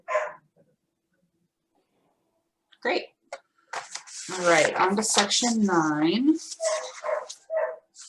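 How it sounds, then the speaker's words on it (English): A puppy barks, yips and whines in the background during an online county committee meeting, with loud, drawn-out howling whimpers in the middle. A person speaks briefly at the start and end. "I'm so sorry if you can hear my puppy in the background."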